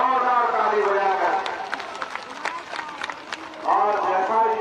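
A crowd at an outdoor political rally claps loudly in a dense patter of hand claps that swells in the middle of the clip, while an amplified speaker keeps talking over it through a loudspeaker.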